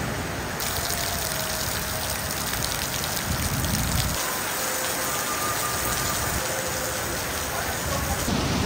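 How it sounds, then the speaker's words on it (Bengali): Steady, heavy rain pours down on a dark daytime afternoon, a dense continuous hiss of drops on surfaces, close and loud throughout with no talking. "কয়েকজন বৃষ্টিতে ভিজতেছে"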